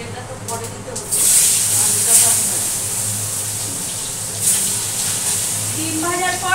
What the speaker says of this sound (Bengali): দিয়ে দিচ্ছি একটু জিরে ফোড়ন।